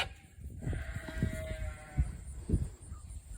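Farm sheep bleat in a pen, one drawn-out wavering call followed by a few shorter bleats amid low shuffling livestock noise, moderately close.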